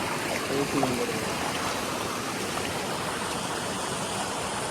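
Stream water rushes with a constant, even wash. A faint voice briefly surfaces early on.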